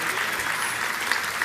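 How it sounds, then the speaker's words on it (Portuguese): A church congregation breaks into applause, a short dense wash of clapping hands, steady and fairly close with a few sharper claps standing out. "É por isso que os aplausos começaram, vão repetir."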